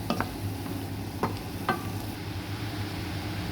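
Carrot stir-fried in a pan with noodles and vegetables, a steady close sizzle broken by a few sharp scraping clacks of a utensil against the pan.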